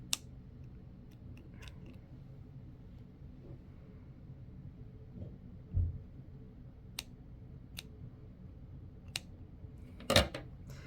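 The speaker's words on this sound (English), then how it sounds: "I'm going to double knot this. And then I'm going to go ahead and I'm just going to trim it." Scissors snip knotted yarn on a finger-knit scarf, a few short, close, crisp cuts, the loudest near the end, over faint room noise and soft handling.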